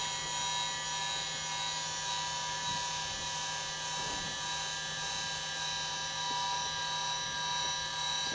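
A Celestron CGX telescope mount's belt drive motor runs steadily, a continuous whirring hum with a high whine, close and constant with no talk.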